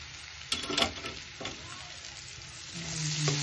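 Butter sizzles and fries in a pan alongside garlic and pork, with brief stirring clatter early on, followed by a soft, steady sizzle at low volume. No one speaks.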